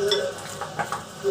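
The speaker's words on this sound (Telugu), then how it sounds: "పచ్చిమిరపకాయ ముక్కలు, ఉల్లిపాయ ముక్కలు, ఇవన్నీ ఒకసారి బాగా మిక్స్ చేసుకుందాము." Chopped green chillies and onions being stirred together in a bowl for tomato bajji, a close, steady scraping and mixing with light clinks of utensil against the dish, no voices.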